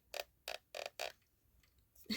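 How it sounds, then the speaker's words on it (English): An Aibo ERS-110 robot dog's plastic limb creaks four times in an even rhythm, close and fairly loud, followed by faint rustling and a final knock. "Ignore the creaky 110 sound."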